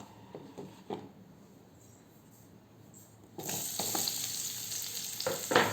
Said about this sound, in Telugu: ఈ ఉల్లిపాయలని ఇప్పుడు నేను ఫ్రై చేస్తానన్నమాట.